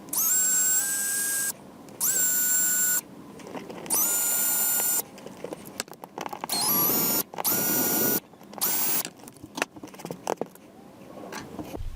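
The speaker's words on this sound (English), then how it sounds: "Then we need to drill out this die-cast rivet." A drill whines in repeated bursts of a few seconds each, cutting out a die-cast rivet on a model truck bumper, close and loud with brief quiet gaps and small handling clicks between runs.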